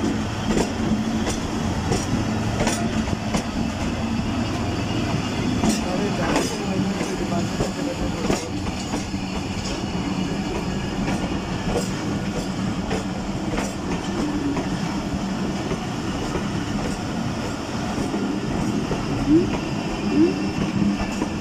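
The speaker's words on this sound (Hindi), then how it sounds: "हमारी ट्रेन भी रवाना हो चुकी है।" Karakoram Express train running on rails after departure, a loud continuous rumble with rhythmic clickety-clack from the wheels, heard from inside the carriage.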